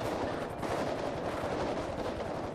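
Dense, rapid gunfire from a GTA V roleplay shootout at a building rattles on continuously at close range, a steady barrage with no clear pauses and no talk.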